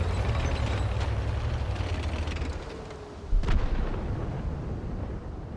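Panzer IV Ausf. H tank gun firing in World of Tanks, with a rumbling engine bed throughout and one sharp, loud blast past the midpoint followed by a fading rumble.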